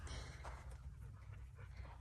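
A dog pants steadily inside a parked car fitted with a rooftop tent, quick rhythmic breaths close by over a low engine-like rumble, with no talking.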